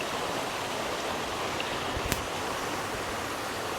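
Bayang Sani waterfall in Pessel, West Sumatra, heard at its third tier: a constant, loud broadband rush of falling water with no letup, and one brief sharp knock partway through.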